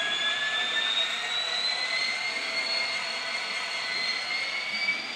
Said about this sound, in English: So let's see if I can get this train moving without any issues.